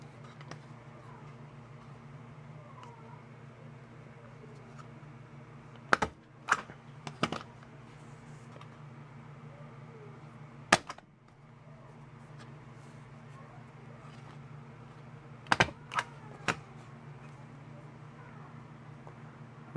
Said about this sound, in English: There, I used three staples.